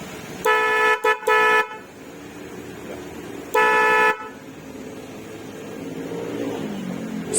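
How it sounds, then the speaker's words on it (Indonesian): A standard Denso car horn honks close by in three bursts: two short toots in quick succession, a third shortly after, then a longer blast, with quiet ambient noise between. "Suara klakson kaong denso standar."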